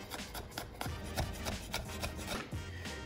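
Knife chopping garlic cloves into small pieces on a board: soft, uneven scraping and tapping strokes close by, with no voices.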